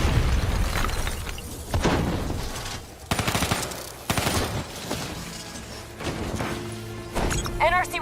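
Rogue robots detonate amid a Call of Duty: Black Ops 3 firefight, with booming blasts, crashes and rattling machine-gun bursts layered densely and loudly throughout. Voices speak under the din.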